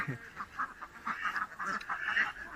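Ducks quacking in a busy cluster on a small farm, repeated nasal calls overlapping at moderate distance, steady throughout with no talking.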